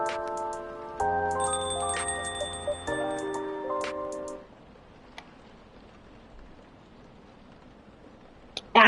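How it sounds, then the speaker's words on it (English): A phone ringtone plays a bright repeating melodic tone for several seconds, then stops, leaving quiet room tone with a few faint clicks. "Lucas's phone rings."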